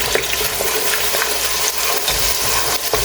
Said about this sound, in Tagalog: At ngayon, pwede na ilagay ang ating sibuyas.